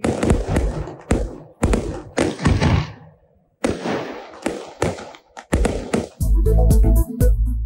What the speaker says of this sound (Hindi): न्यूजीलैंड के स्काई टावर पर आतिशबाजी।